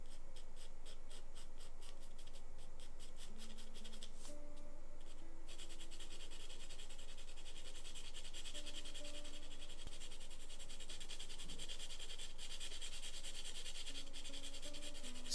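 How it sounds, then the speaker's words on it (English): A charcoal pencil shades across drawing paper in steady, close scratchy rubbing strokes that continue for the whole stretch without talk. "I'm just finishing up with the charcoal pencil here"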